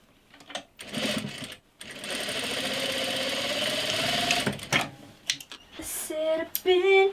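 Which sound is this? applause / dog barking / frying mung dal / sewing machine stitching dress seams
sewing machine stitching dress seams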